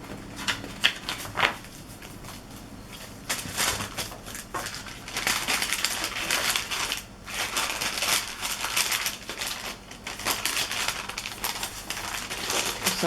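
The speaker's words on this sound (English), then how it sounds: "I want to make sure they get put back in their packages" Vintage note cards are slid back into their packages, giving papery rustling, crinkling and shuffling that comes in bursts close by, with no speech.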